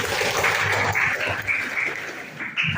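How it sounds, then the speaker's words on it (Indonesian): A classroom of students claps together in steady, sustained applause, moderately loud and continuous without talk. "Tepuk tangan untuk ini."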